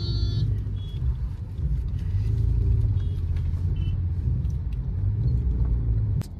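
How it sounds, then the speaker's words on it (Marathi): Low, steady engine rumble of cars idling and creeping in a road traffic jam, continuous and fairly close, with faint higher clicks and a brief beep near the start. "पूर्ण ट्रॅफिक जॅम आहे सध्या."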